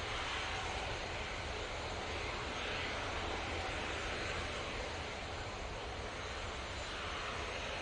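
An easyJet jet airliner departs Manchester Airport for Montpellier with a steady, broadband engine roar, fairly loud and unbroken throughout, and no speech.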